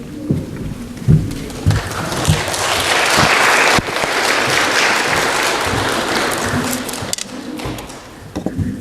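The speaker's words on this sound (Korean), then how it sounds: "우리 여러분들 목사님 나오실 때 박수로 환영해 주시기 바랍니다." Congregation at a Korean church service applauds to welcome the pastor, dense clapping swelling after a few scattered claps and holding steady before tapering off, with a few low thumps early on.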